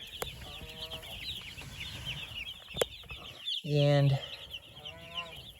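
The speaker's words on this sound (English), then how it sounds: "So they're here in the brooder, eating and drinking and scurrying around." A few-days-old brood of baby chicks under heat lamps in a brooder, with constant high peeping and cheeping up close, a louder clucking call near the end and a brief spoken word in between.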